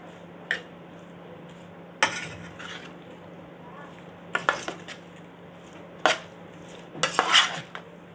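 A utensil scrapes and clinks against a bowl while food is mixed for an eggplant dish, sharp intermittent knocks and clatters spaced a second or so apart, with a soft mushy stir between them over a steady low hum.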